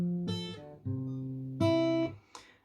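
Fingerpicked guitar notes sounding in a short sequence, each plucked tone ringing briefly before the next, close and unaccompanied.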